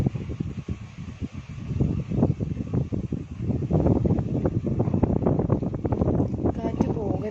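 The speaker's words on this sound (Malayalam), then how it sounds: "മഴ വരുന്നു, അതുകൊണ്ടാ കാറ്റ്." Gusty wind blowing ahead of rain, buffeting and roaring against the microphone in uneven rushes that strengthen midway, with a voice talking underneath.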